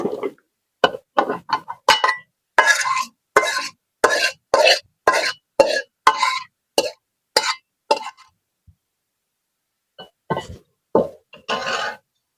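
Thick, sticky raw jackfruit curry, cooked like spiced mutton, is ladled from the pot into a dish. About a dozen sharp scraping clinks come in a steady rhythm, then a pause and a few more scrapes.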